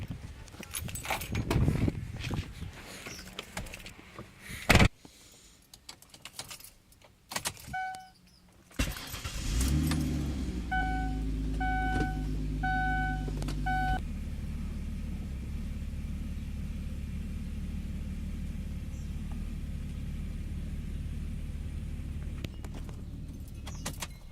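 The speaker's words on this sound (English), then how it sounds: "Now we're just gonna go move the car." A car being moved, starting after some rattling and key jangling, then a steady engine idle that holds close and even while it is driven, with a few electronic chimes from the dash.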